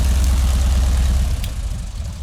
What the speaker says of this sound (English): I hope you enjoyed the sound of that throaty radial engine.